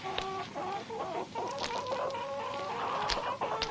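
Hens cluck and murmur close by, a busy overlapping chorus of short calls with no voices.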